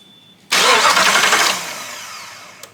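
A Jeep Grand Cherokee WJ engine cranks over with a sudden loud churning whir that holds for about a second, then fades away gradually, with a faint click at the very end.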